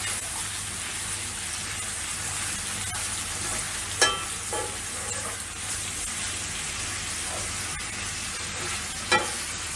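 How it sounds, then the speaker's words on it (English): Sausages fry in a pan with a steady, dense sizzle close by, broken by occasional sharp crackles and stirring scrapes. "And the sausages starting to get cooked."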